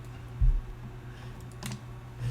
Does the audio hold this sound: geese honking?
no